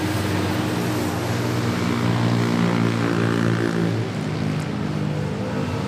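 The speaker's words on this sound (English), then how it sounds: "SQ9019 Manila to Singapore on A350 Neo." A jet airliner at Manila Airport, heard as a loud, steady engine roar that holds for several seconds with a broad rushing tone and no talk over it.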